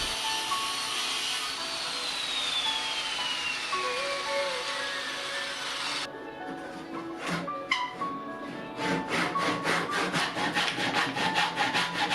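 Steady, continuous sawing through juniper wood corners of a bench, loud and close, with a harsh rasp that turns choppier and more rhythmic in its final stretch.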